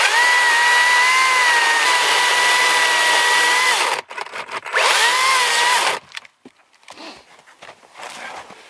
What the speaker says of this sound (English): one thing that's really important with these electric chainsaws